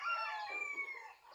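A rooster crows once, loud and near, with a faint cluck or two from nearby chickens.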